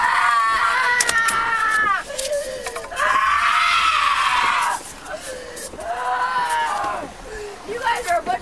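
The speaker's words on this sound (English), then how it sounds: "she's screaming so loud" A woman in the back of a police car screams loudly and hoarsely in long, strained bursts with brief gaps, close and piercing, over the car's interior hum.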